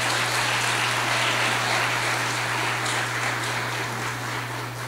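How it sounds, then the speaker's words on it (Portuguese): A church congregation applauding during a service, a dense, steady wash of many hands clapping that fills the room, with a low hum underneath and no voices on top. "Pode aplaudir Jesus."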